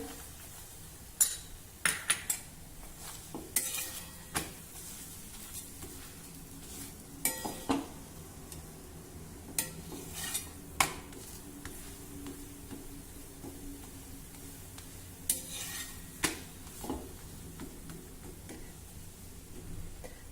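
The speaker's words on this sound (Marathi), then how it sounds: "पराठा खरपूस भाजून झाला" A paratha roasts with oil on a flat pan, giving a faint, low sizzle beneath scattered metallic clinks and scrapes from a spatula against the pan.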